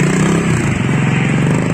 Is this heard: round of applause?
no